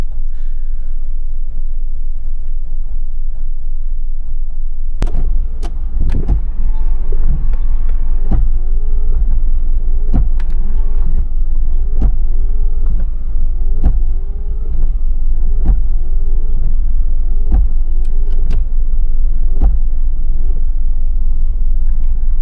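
With the choke on, a car engine idles in a steady low rumble, punctuated by regular rhythmic pulses that repeat every couple of seconds, loud and close.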